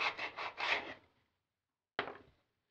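Hand sanding inside a drilled hole in a high power rocket tube: several quick rhythmic back-and-forth scrapes, close and crisp, then a pause and one more short rasping stroke.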